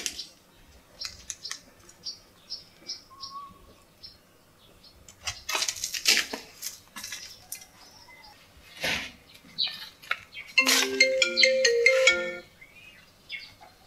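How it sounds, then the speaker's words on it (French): A mobile phone ringtone plays in a room, a melodic electronic tune of short repeated notes that grows louder near the end, with faint rustling and brief sounds in between. "C'est mon téléphone."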